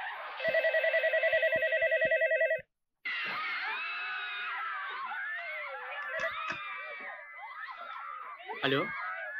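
A telephone rings in a repeated pulsed bell pattern for about two and a half seconds, loud and close, then stops as people talk and shout over lively background noise.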